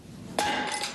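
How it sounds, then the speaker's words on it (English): A hammer strikes a ball frozen in liquid nitrogen, one sharp close crack that shatters it into a bright, brittle burst ringing out briefly before fading. "I'm going to take that ball and hit it with this hammer."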